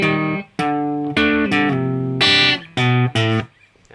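Electric guitar riff from a song, plucked with the thumb: a string of separate picked notes and short chords with clear gaps between them, played close and loud, no voices.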